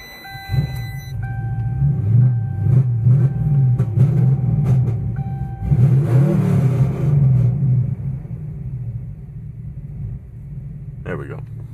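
A Crown Vic with a 5.4 throttle body rumbles and revs on a test drive, a deep, loud, wavering engine drone with surges in the middle, and voices talking over it.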